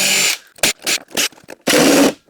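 Impact driver backing out long screws from a pocket door track cover, with four loud bursts of whirring and rattling, separated by short pauses, the final burst the longest.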